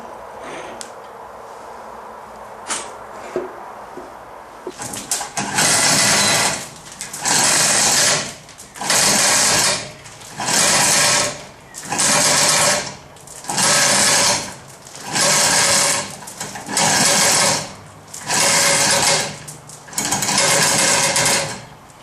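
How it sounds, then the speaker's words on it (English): Air chisel knocking the balance weights off a forged crankshaft in a garage workshop, firing in about nine loud sustained bursts of rapid hammering separated by short pauses, after some quiet handling noises. "I'll just chisel the other one off now"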